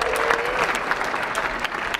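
Audience applauding after a screening of the cycling film "Ride the Divide" in Colorado Springs, a brief burst of dense clapping from a crowd at close range.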